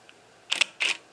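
A Nikon D810 DSLR shutter firing in quiet mode, two short crisp mechanical clacks a quarter-second apart, close and distinct against near silence.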